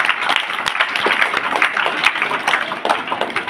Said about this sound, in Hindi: जो बच्चे स्नान करके आए हैं उसके लिए एक बार तालियां बजाइए